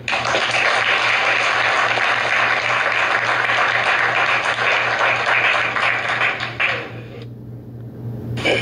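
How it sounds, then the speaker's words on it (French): A church congregation in Gabon applauds and acclaims the Lord with dense, sustained clapping and cheering that fills most of the clip, then drops away near the end. "Une acclamation pour le Seigneur."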